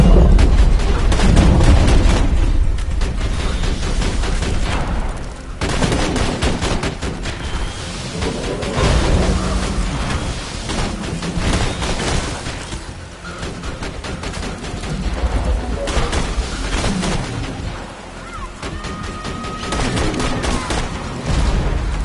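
Heavy turret gunfire and booming explosions fill a Borderlands firefight, dense and loud, with continuous volleys pulsing throughout and brief dips between rounds.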